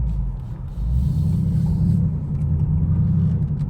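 A Toyota on Pilot Sport 4 tires spins its wheels in snow, giving a loud, steady engine rumble that swells and holds with a low drone, heard close from inside the car with no talk.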